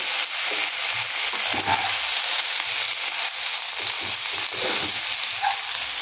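Rice stir-fried with soy sauce sizzles steadily in a pan at close range, with soft scraping and tossing sounds scattered through the hiss and no talking.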